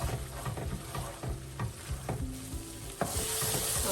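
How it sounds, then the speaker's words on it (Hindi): Prawn curry masala with coconut milk sautéing in a pan, a steady close sizzle with scraping stirring strokes and occasional soft clinks throughout. "कोकोनट मिल्क थोड़ा थोड़ा करके ऐड करें और सॉटे करते जाएं।"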